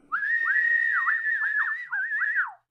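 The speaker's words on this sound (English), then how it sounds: "You may whistle." A single person whistles a lively, wavering tune, sliding up and down in quick bends, clear and close with no talk.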